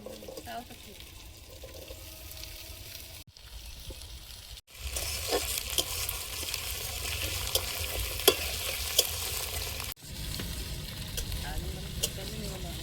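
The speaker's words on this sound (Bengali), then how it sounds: "ফোড়ন ভাজা হয়ে গেছে, এবার আমি আলু দিয়ে দেবো।" Potatoes frying in tempered spices in a home kitchen, a steady sizzle with stirring clatter and a few sharp knocks, broken by brief cuts.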